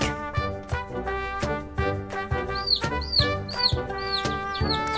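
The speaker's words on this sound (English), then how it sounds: "Chick." A chick chirps in a farm-animal learning setting, with a quick series of high peeping calls over bright, steady music, sounding close and clear.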